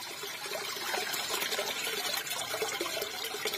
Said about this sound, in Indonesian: mendengar suara gemericik air